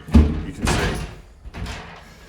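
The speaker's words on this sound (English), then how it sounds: "Let me just close the door so you can see" An interior flat door swings shut with a solid thump near the start, followed by a couple of softer knocks and rattles from the door settling, close by and with no talking.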